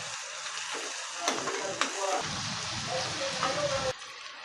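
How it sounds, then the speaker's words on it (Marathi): Onions fry with ginger-garlic paste and whole spices in a pan, giving a soft, steady sizzle with a few sharper clicks of a spoon stirring, moderately close and fairly quiet, the sizzle easing off at the very end. "आता हे आलं लसूण पेस्ट आणि खडे मसाले मस्त असे कांद्यात फ्राय करून घेऊया"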